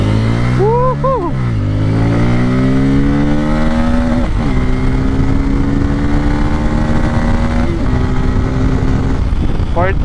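A Kawasaki Pulsar N250, a 250cc motorcycle, is ridden and accelerates hard. Its loud engine note rises through gears, dips briefly at each shift and climbs again, with wind rush throughout.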